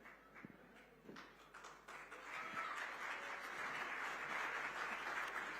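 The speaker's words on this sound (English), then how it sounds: "Can we please have a huge round of applause once again for Rishabh?" An awards-ceremony audience breaks into applause for a performer, starting with a few scattered claps and swelling into a sustained, dense round that carries on steadily, heard from some distance.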